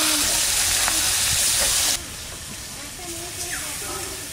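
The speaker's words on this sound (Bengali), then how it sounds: "তেলের উপর মাছ ছেড়ে দিচ্ছি" Mrigal fish coated in salt and turmeric hits hot oil in a village kitchen, setting off a loud, roaring sizzle that drops to a softer, steady crackle partway through.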